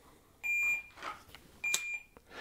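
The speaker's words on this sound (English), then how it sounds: "but also that stop beep, the ending beep" Quiet dry fire practice indoors, where a shot timer sounds two short high-pitched electronic beeps about a second apart, faint against soft room noise and small clicks.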